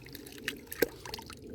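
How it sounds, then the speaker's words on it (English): Water from a little stream in Virginia trickles through a Gold Hog mini sluice, giving faint, close, irregular drips and splashes over a soft steady flow. "We're in a little stream here in Virginia"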